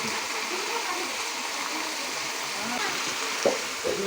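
Water is poured into a pan of tomato chutney with green chillies during home cooking for a Kali Puja meal, giving a steady, close splashing gush for a few seconds while people talk nearby.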